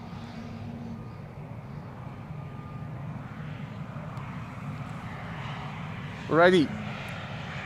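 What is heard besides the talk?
Embraer E2 airliner arriving with thrust reversers open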